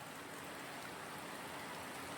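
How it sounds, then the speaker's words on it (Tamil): Steady rain pouring with rainwater running, a dense even hiss of drops and flowing water, close and continuous with no voices. "மழை தண்ணி பாருங்க"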